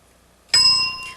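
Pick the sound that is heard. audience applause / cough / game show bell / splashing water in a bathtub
game show bell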